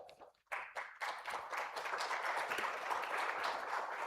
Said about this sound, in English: let that applause continue as we thank our speaker and express gratitude